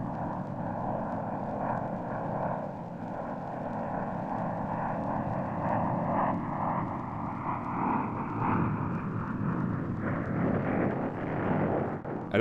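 Fighter jets roaring low over Vietnam jungle in 1967 US Air Force footage, a sustained loud jet rumble with a slowly rising engine whine building toward the end.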